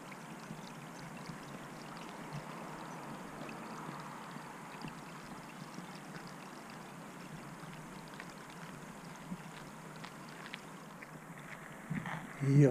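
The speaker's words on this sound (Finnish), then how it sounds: "Aika paljon siellä vettä virtaa." Water flowing along a stream on an outdoor walk, a steady broadband rush that holds level for the whole stretch, with a few louder splashes or thumps at the very end.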